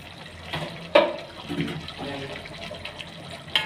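Water pours and splashes into a pot of boiling seeraga samba mutton biryani in short uneven bursts, close by, with faint background noise.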